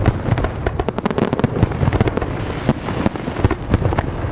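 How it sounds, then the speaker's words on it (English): A loud, dense fireworks sound effect plays close, with rapid irregular crackling pops and bangs continuing throughout with no letup. "Can we get some fireworks"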